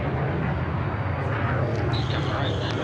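The XB-1 supersonic jet takes off, a steady broadband roar with low rumble sustained throughout, distant yet loud, with faint background voices mixed in.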